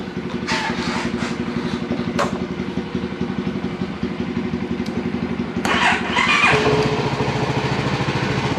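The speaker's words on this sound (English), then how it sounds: "Now the CFMoto, we're gonna take the battery tender off and see if it'll start up." A CFMoto motorcycle engine cranks and fires up after its battery tender is pulled, hesitating before settling into a steady, close, loud idle with a rising rev near the end; no talk.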